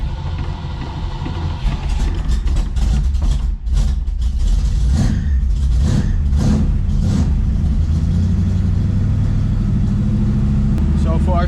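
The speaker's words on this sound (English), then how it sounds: "get her back into gear and see what she does." 1967 Mustang engine running while the car is put in gear and driven, a rough low rumble with uneven revving surges, heard close with someone talking over it.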